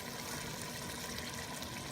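Beef broth pours steadily into a pot of pork pochero, a continuous close liquid rush that stays loud and even throughout, with no talking.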